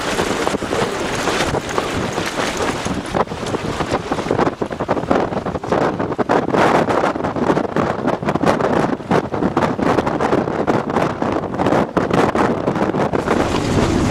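Fierce, unrelenting wind batters a tent at 7,500 metres on Everest, a loud continuous roar broken by rapid flapping gusts close around the microphone, with no voices.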